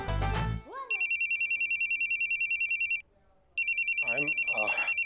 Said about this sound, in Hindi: बीच में फोन बजा।